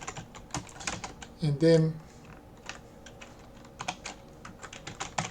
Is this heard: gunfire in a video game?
no